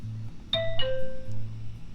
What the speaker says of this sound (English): As I ring the doorbell